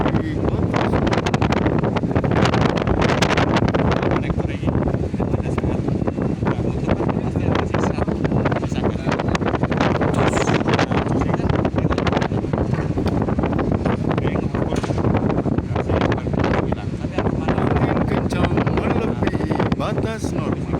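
Strong wind blows hard and without a break, a loud, rough roar buffeting the microphone with gusty surges, and voices mixed in underneath.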